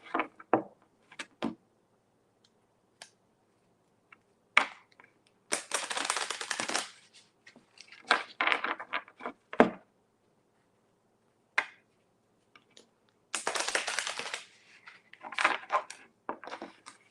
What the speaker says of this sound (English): I'm just shuffling these cards one last time.